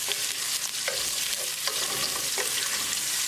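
Onions frying with cumin for a Baja roasted rice pilaf sizzle steadily in a pan, with repeated close scraping strokes of a spoon stirring them.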